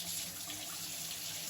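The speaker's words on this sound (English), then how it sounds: "Hey, we're flowing water." Water rushes steadily from a newly installed Vellamo kitchen tap into the sink, a continuous close hiss and splash with no talk over it.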